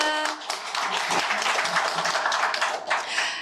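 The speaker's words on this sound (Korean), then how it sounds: "큰 박수 부탁드립니다." An audience bursts into sustained applause at a Korean book talk, a dense, steady wash of clapping heard from within the room.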